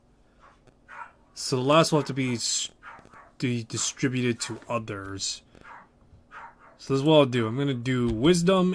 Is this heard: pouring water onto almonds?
no